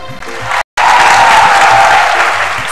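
A studio audience claps loudly on a Ramadan TV game show, dense sustained applause broken by a brief cut of silence before continuing strongly to the end.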